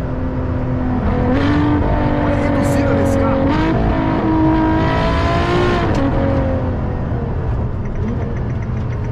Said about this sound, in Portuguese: eu quero ver ele chegar até 9 mil rotações aqui